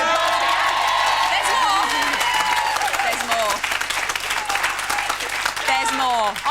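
A studio audience at a TV chat show claps loudly and steadily throughout, mixed with cheers, whoops and scattered voices, dipping slightly midway before swelling again.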